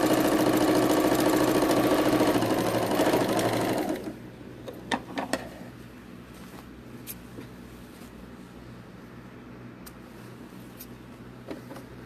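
Sewing machine running steadily and loud while chain stitching pink shark pencil cases, a continuous mechanical whir that stops abruptly after about four seconds, leaving faint clicks and handling noises.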